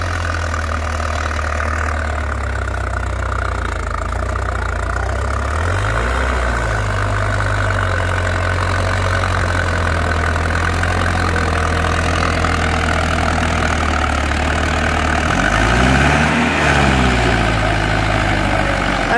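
A Farmtrac tractor engine runs with a loud, steady low drone while ploughing a field in Maharashtra, its pitch dipping and rising briefly twice as the load changes.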